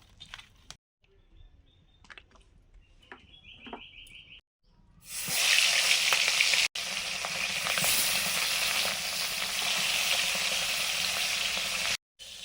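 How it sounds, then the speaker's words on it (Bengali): Katla fish rubbed with salt and turmeric frying in hot oil. After some quiet clatter and a brief tone, a loud, dense sizzle starts and holds steady to the end, with no talking. "মাছগুলো নুন হলুদ মাখিয়ে ভাজবো"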